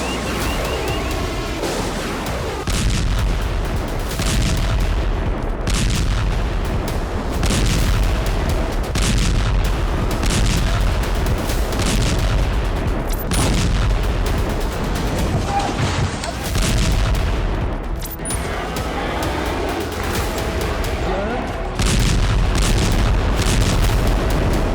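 Israeli bombardment explosions shake Gaza in a series of heavy booms and blasts, repeating every few seconds over a dense rumbling background, with a voice speaking at times through the barrage.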